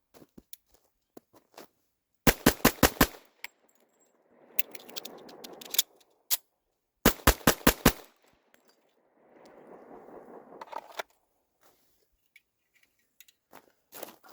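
A Metro Arms Commander 1911 pistol fired as fast as possible, two strings of about five sharp, loud shots in quick succession, each followed by scattered clinks and a muffled rustle.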